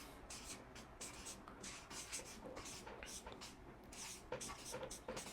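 A pen writes capital letters in a quick series of short, scratchy strokes, close and fairly quiet, with small pauses between letters.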